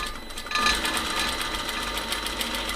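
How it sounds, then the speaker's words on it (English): A sewing machine stitches a dart and runs straight off the end of the fabric, a fast steady mechanical whirring and clatter that rises sharply after a brief quieter start and continues evenly, close and alone. "I let the machine run a little bit so that the threads are twisted slightly."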